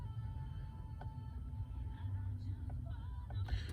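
A car drives slowly at night, its engine a low, steady rumble with faint ticks and creaks from inside the cabin.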